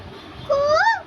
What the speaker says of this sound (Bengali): ছোট্ট পাখি ডাকছে।